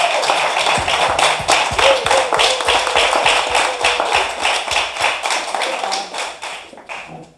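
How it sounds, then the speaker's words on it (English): An audience at a talk on climate justice applauds a group of young people, with dense, steady clapping that fills the room and tapers off toward the end. "I just want you to give a round of applause to this dynamic group of young"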